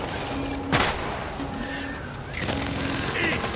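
Pistol shots in the Deep Rock Galactic video game, a few sharp cracks spaced out over steady game ambience and music, fairly loud and close.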